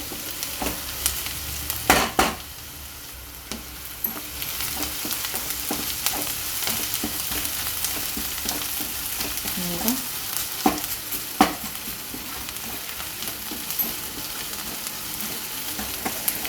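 Spring onion greens frying in a pan with besan, a steady sizzle running throughout while a spatula scrapes and stirs in repeated irregular strokes, close and fairly loud, with no talking.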